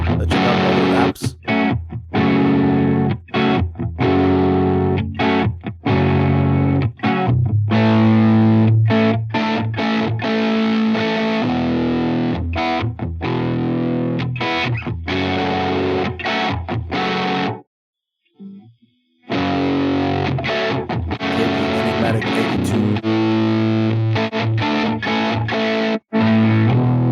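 A distorted electric guitar played through an amp simulator plugin, with dry effects and reverb switched off, riffs loud and steady with chugging palm-muted chords, breaking off briefly near the end before resuming.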